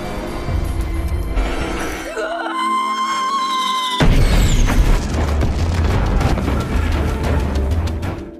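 Fireworks explode in a scene from the film A Quiet Place: a tense tonal stretch gives way halfway through to loud, dense bursts and booming crackle that keep rolling to the end.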